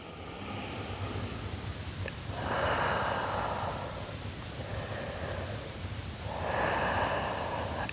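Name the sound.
deep breathing during a Pilates workout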